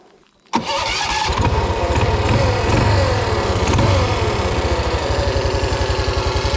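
A 2WD Rokon motorcycle fitted with a 223cc Wildcat engine and a baffled exhaust starts abruptly after a short quiet moment, then settles into a steady, fairly quiet putter that runs on with no voices.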